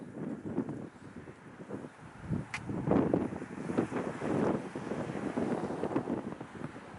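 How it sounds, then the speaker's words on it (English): Gusty wind buffets the microphone outdoors, a steady low rumble with irregular surges throughout. "It's a little windy out today"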